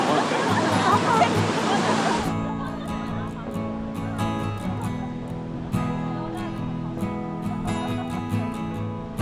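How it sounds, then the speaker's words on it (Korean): A dense rush of a waterfall at Changbai Mountain's north slope fills the first couple of seconds, then drops away as tonal, musical sounds take over. "폭포"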